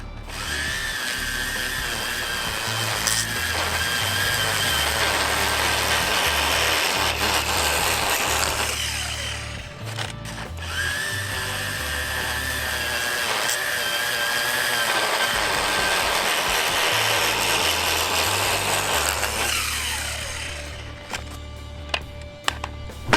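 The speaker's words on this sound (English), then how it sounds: "So I'm going to try out my little Milwaukee system here on an edge that has probably never been done for years now" A Milwaukee lawn edger cuts an overgrown edge in wet soil, its motor whining loudly and continuously, bogging down and dipping in pitch around the midpoint, then spinning down to a stop near the end.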